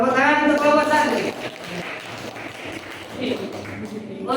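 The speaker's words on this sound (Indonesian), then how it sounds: "Tepuk tangan untuk kelompok 1." Classroom applause for group 1 breaks out as a dense burst of clapping that fades into scattered claps and murmuring, with a brief swell near the end.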